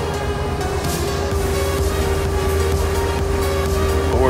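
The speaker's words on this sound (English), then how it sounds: "It's that kind of whining, whirring noise you can hear." A whiny power steering pump on an old truck gives a thin, steady whirring whine over the running engine's constant low drone, with no voices.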